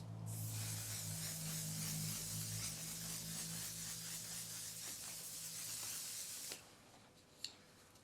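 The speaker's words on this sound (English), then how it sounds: "let's give ourselves a little hairspray" Hairspray hisses from an aerosol can in one long continuous close spray lasting several seconds, then stops, followed by a faint click.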